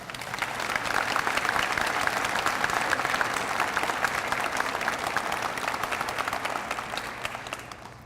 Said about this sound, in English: will you just give them a round of applause?